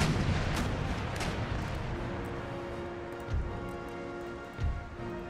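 Warship cannons fire a broadside in Empire Total War, heard as two deep, booming blasts a second apart over a steady low rumble of battle noise.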